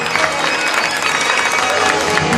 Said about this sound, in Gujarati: ફરીથી જોરદાર તાળીયા એકવાર